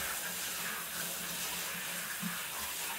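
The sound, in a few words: water rinsing a dog's back during a bath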